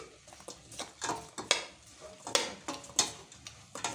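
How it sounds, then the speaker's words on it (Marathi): Jaggery and grated amla get stirred in a pan, a spoon scraping in quick repeated strokes with a soft sizzle of cooking beneath, close and fairly crisp. "गूळ आणि आवळा कीस जो आहे छान असा मिक्स करून कंटिन्यू शिजवायचा आहे"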